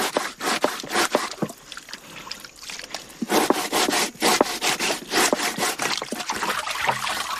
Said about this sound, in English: The first stage of bread making is to scrape the tough outer skin of the manioc.